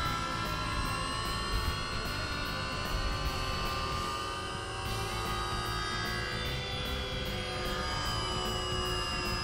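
An electric remote-controlled motorcycle's internal gyroscope spins up with a steady high-pitched whine and layered tones that hold loud and constant throughout, with no talking over it.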